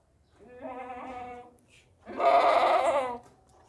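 A young, tall, healthy Chini goat bleats twice, close by. The first call is a wavering, medium-loud bleat, and after a short pause a louder, harsher second bleat follows.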